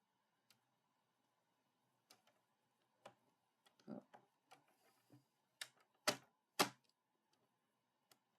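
Paper cardstock for a craft project is cut in sharp, sparse snips and clicks spaced irregularly, close and crisp against a quiet background.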